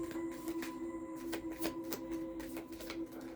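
Playing cards being shuffled in a spiritual card-reading session, a run of quick, crisp riffling bursts close by over a steady electrical hum, with no talking.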